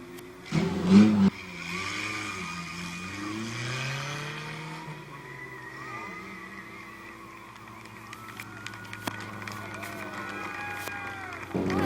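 Race cars at Midvale Speedway, engines droning and shifting in pitch as they run the track at a distance, with a loud burst near the start and a commentator talking over the noise.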